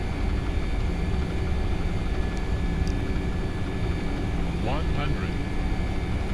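A McDonnell Douglas MD-80 lands in the X-Plane 10 flight simulator with its throttle fully closed, a loud continuous engine and wind roar filling the cabin while a short synthetic callout chirps near the end.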